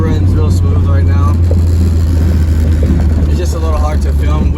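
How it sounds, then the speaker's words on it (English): A Honda Civic with a swapped K24A2 engine runs steadily with a low, continuous rumble close by, while someone talks over it. "The car runs real smooth right now."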